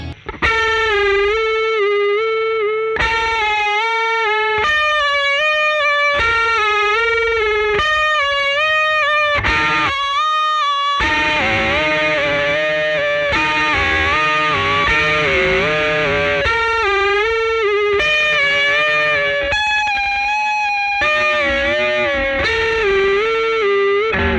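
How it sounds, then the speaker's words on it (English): Distorted electric guitar plays sustained notes that waver and bend with wide vibrato, loud and continuous throughout. "If you don't have a chorus or a delay pedal, but you have distortion and a guitar with a whammy bar"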